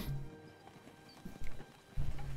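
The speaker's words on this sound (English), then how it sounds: "In the distance, you see a loaded wagon pulled by six horses." Horses pulling a loaded wagon in the PC video game Ash of Gods: Redemption, hooves clopping in a soft, steady patter with a few louder bursts, moderately near and without talk.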